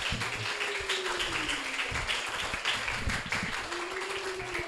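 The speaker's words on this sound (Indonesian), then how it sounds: "Boleh dong kita berikan tepuk tangan untuk Bu Yani dan Bu Sondang dan Bu Teri dan untuk kita semua" An audience at an expo event breaks into sustained applause, a dense steady wash of clapping, with a low tone sliding underneath and no voices standing out.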